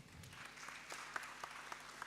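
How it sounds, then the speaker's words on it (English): Faint scattered clapping from an audience at a competition event, light and distant, with a few louder individual claps standing out. "let's give her a round of applause"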